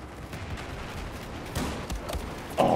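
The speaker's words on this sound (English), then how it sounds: "Oh god, I shot that guy." Rapid bursts of gunfire in a chaotic multiplayer shooter video game, several close, sharp shots over a steady background din of battle.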